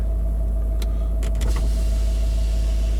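A Range Rover L322 TDV8's power window motor hums steadily under a low diesel engine idle, with a couple of faint clicks from the switch.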